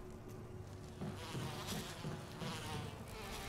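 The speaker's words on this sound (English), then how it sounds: "Oh my god, there's bees everywhere." Bees swarming around a hive in the video game Resident Evil, a steady close buzzing hum with pulsing swells as insects pass near.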